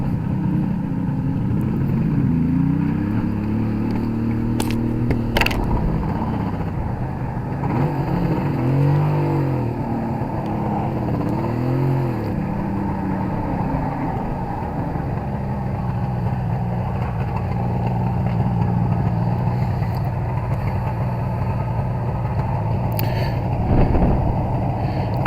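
A Suzuki GT750A motorcycle engine idles and revs repeatedly on a road test, the exhaust rising and falling in throaty swells, close by and steady for a long stretch.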